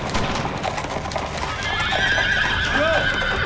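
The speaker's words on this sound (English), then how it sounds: "Sir, I hear horses coming down the road." Horses gallop down a road in Brothers in Arms: Earned in Blood, a clatter of hooves and a loud whinny rising above battlefield ambience, with soldiers' voices nearby.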